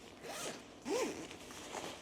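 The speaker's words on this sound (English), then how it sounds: "and now I'm going to zip this one up too." A packing cube is zipped closed, a quick rasping zipper pull in two short bursts, close and fairly quiet, with no talking.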